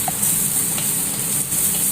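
Small shallots sautéing in oil for a Kerala-style sardine chilli curry give a steady close-up sizzle and hiss, with faint stirring scrapes and no talking.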